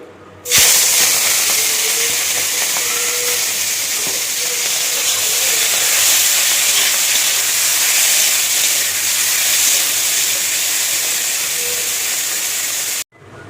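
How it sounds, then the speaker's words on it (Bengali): Prawns frying in a little hot oil in a wok, a steady loud hiss and sizzle that runs unbroken for most of the clip with no talking over it. "এবার চিংড়ি মাছটা ভেজে নেব।"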